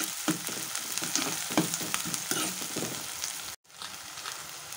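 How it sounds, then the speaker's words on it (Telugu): Sliced onions and green chillies frying in oil for a Telugu broad bean curry, sizzling close and fairly loud with spoon-stirring scrapes, cutting out abruptly for a moment near the end before the sizzle resumes. "ఒకసారి ఈ ఉల్లిపాయలు కొద్దిగా ఫ్రై అవ్వాలి."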